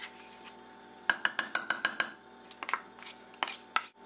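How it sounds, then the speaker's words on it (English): Shoepeg corn casserole ingredients stirred in a big bowl, giving a quick run of sharp clinking spoon-on-bowl knocks followed by a looser scatter of scrapes and taps, close and without voices. "Now you just gotta stir these up. That's why you need a big bowl."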